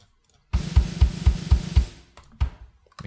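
A programmed snare drum loop plays a steady run of sharp hits, then thins into a few scattered strikes, heard alone without talk.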